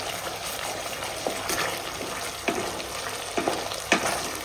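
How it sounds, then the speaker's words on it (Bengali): Spice paste frying in hot oil for a katla fish kalia, a steady close sizzle and bubbling with several soft scrapes and taps as it is stirred. "এবার একটু নাড়া দিয়ে নেবো।"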